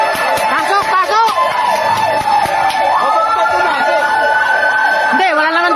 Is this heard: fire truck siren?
yes